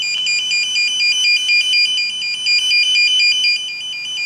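A circuit breaker finder emits a loud, steady electronic tone that pulses with a high warbling beep as the probe scans a house breaker panel. It sounds close and piercing, with no talking over it.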